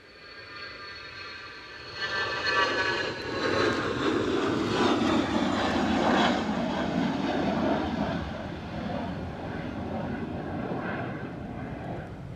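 A Cessna Citation Sovereign business jet at Edinburgh Airport roars steadily from a moderate distance, swelling after a quieter start and holding a broad whining rumble.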